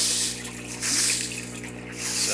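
Water runs steadily into an aquaponics flood-and-drain media bed, a continuous close splashing and trickling with slight swells in level.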